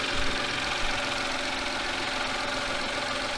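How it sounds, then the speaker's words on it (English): Mitsubishi Mirage's small 3-cylinder engine idling under the open hood, a steady, even drone with a faint rhythmic throb and no voices. "I'll show you guys the engine so you guys can hear that 3-cylinder roar"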